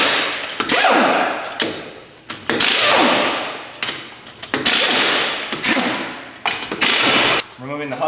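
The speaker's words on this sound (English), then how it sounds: "Removing the hubcap, removing the wheel and tire from the vehicle." On a 2003-2007 Honda Accord, a hubcap and wheel with tire come off, heard as a series of loud clanks, thumps and metallic scrapes and rattles of tools and parts, with some brief whirring mechanical bursts in between.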